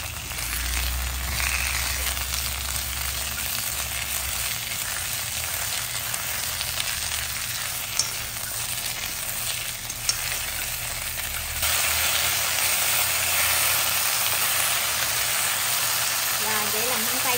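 Asparagus frying in a pan while being stirred with salt, pepper and sugar, a steady loud sizzling hiss throughout, growing denser toward the end, with someone talking over it.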